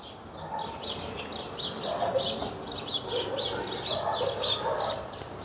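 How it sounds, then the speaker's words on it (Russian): Birds sing outdoors, faint repeated chirping phrases carrying over a soft steady background hush, fairly distant and alone without talk. "Слышишь? Аж птицы запели."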